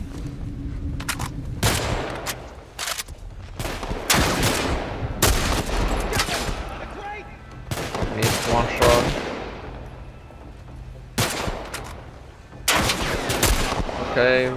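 Rifle gunfire in The Last of Us Part I, sharp loud shots in spaced bursts and single cracks echoing across a tense firefight, with quiet gaps and faint background ambience between them.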